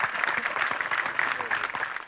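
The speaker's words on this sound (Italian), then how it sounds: "vi prego di salutare ancora con un grande affettuoso applauso" Audience applause welcoming Vittorio Sgarbi at a summer university event in Soveria Mannelli, a steady dense clapping from a sizeable crowd lasting throughout, fairly loud and close with no pause.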